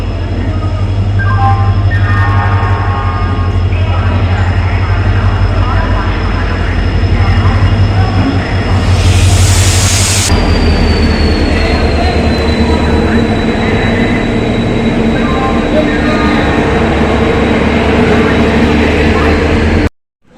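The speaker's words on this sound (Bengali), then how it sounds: "আমাদের ট্রেন চলে এসছে, তাম্রলিপ্ত দীঘা যাওয়ার ট্রেন।" Tamralipta passenger train bound for Digha rolls into a station, a loud continuous low rumble and rattle of wagons with a long sustained whine and a brief high hiss, with voices in the crowd.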